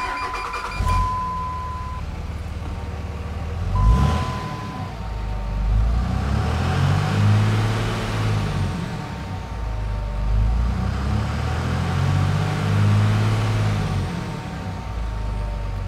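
A 2003 Dodge Cummins diesel truck engine cranks and fires up, then settles into a steady, rumbling idle with gentle rhythmic swells, heard close and loud with no talking.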